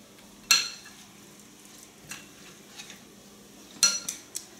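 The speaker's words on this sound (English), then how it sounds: "I'm just going to mix it all together." Curry brown rice being stirred together in a pot, with a few sharp scraping clinks of a spoon against the pot spaced across a quiet background.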